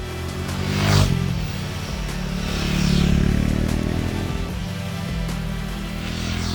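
A Royal Enfield Guerrilla 450 single-cylinder motorcycle engine thrums while riding, its pitch rising and falling with throttle changes, with wind noise sweeping past and no voices.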